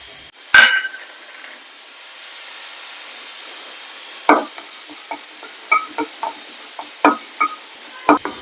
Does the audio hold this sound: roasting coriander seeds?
yes